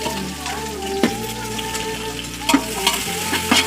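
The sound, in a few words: onions frying in a pan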